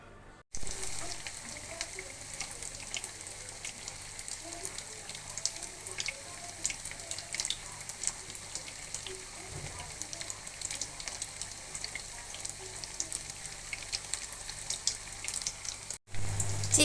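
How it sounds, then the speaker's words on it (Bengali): Marinated chicken pieces frying in hot oil for a spicy chicken fry, a steady soft sizzle and crackle running beneath faint background noise, with a brief clunk near the end. "তা চলেন এখন চিকেন ফ্রাইটা ভেজে নিই।"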